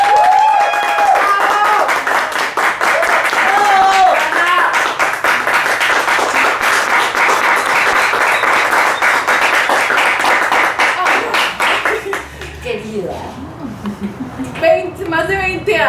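An audience at a storytelling talk claps warmly to welcome a storyteller, a dense, sustained round of applause that fades out near the end as a voice begins speaking.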